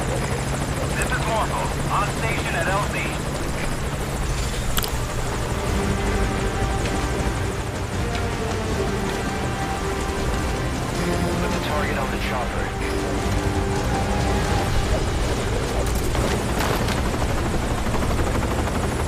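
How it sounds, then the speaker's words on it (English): Helicopter in the video game Metal Gear Solid 5 Ground Zeroes, a steady, loud rotor thump and turbine whine running throughout, with voices talking over it. "This is a nice helicopter."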